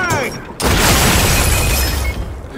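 A frag grenade detonating in Gears of War 4 Horde mode, a brief quiet lead-in followed by a loud sudden blast with crackling, rumbling debris decaying over about two seconds.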